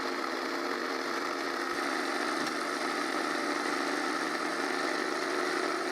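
A jigsaw fitted with a narrow blade cuts a tight curve in wood, scorching it, with a continuous buzzing, rasping whine that holds steady and close throughout.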